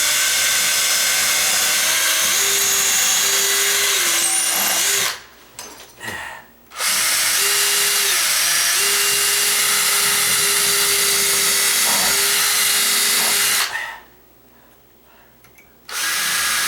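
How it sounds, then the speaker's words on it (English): A power drill whirs steadily at close range while drilling into a door, pitch rising and falling as it bites, with two brief pauses in the middle and another near the end. "So I have to drill"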